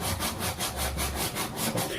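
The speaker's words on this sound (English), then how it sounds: "I'm going to continue sanding this up" Wood for a knife strop being hand sanded up close, a steady back-and-forth rasp repeating about eight times in two seconds with an even, loud scratching rhythm and no talk.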